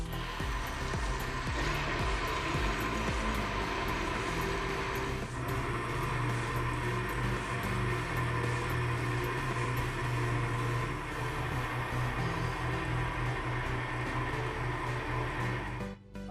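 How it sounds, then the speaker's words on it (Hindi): A blender whirs loud and continuous for about sixteen seconds, blending a creamy berry dessert with a steady dense motor roar that cuts off at the end. "अब हम ऑन करते हैं ब्लेंडर को"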